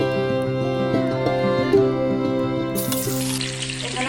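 Potatoes fry in hot oil in a pan, giving a steady, close sizzle with a bright crackling burst near the end; no one speaks.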